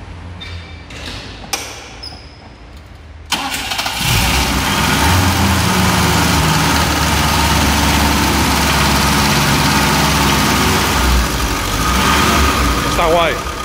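A Derbi DS scooter engine from 1974 is started after a few brief clicks and settles into a loud, steady idle close by, its rough running continuing alone to the end.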